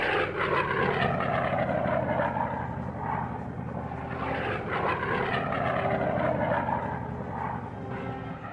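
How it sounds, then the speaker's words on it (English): P-47 Thunderbolt fighter planes flying in formation over wartime Germany, their propeller engines making a steady, loud droning roar with slow swells in intensity, no voices present. "these P-47s are in a hurry to join the fray"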